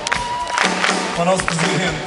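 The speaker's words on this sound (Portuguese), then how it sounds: "E uma salva de palmas para o nosso" A concert crowd at the Marés Vivas 2010 festival cheering and applauding in a loud, dense wash, with a voice speaking over it.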